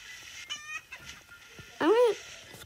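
Chickens in a video game give a few short, separate clucks and squawks. The last call is loudest and rises and falls in pitch, with quiet gaps between calls.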